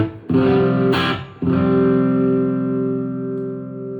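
Electric guitar through an irio pro blues-driver-style tube drive with reverb plays loud overdriven chords, two quick strums and then a sustained chord ringing out and slowly decaying, with no voice over it.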